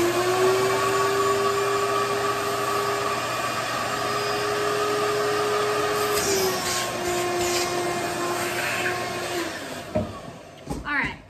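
A vacuum cleaner fitted with a Dollar Tree vacuum bag drones loudly and steadily for several seconds, with a sustained motor whine that shifts slightly before the machine cuts off and is followed by a few handling knocks.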